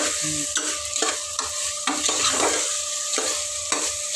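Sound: stirring green chicken gravy curry in a pan

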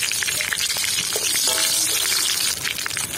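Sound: bay leaf and green chilli frying in hot oil

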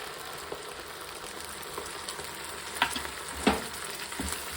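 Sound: ground masala frying for Mangalore-style prawn ghee roast

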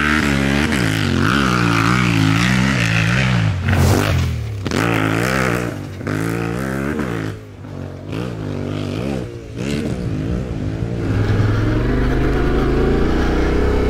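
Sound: motorcycle engine revving through the gears after oil change

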